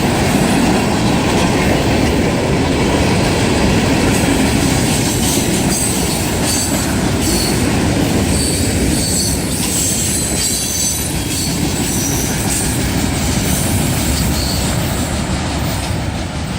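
A long freight train rolls past up close, loud and steady, with rumbling wheels, clattering cars and occasional high metallic squeals.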